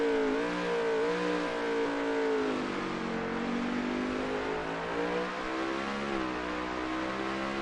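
Race car engine at the Charlotte Roval bus stop chicane during a North American Racing Series playoff race, a loud continuous droning roar that shifts pitch through the corner with no voices over it.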